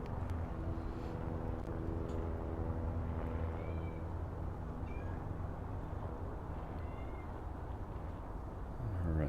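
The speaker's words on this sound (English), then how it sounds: "ignore my cat" A house cat meows a few brief times, faint and somewhat distant, over a steady bed of music.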